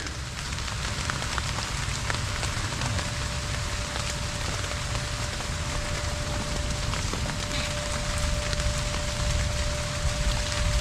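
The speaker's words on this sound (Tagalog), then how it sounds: "talagang ayaw lubayan ng ulan" Steady rain falls continuously on a seedling garden, a dense, even patter on surfaces with a faint constant tone underneath.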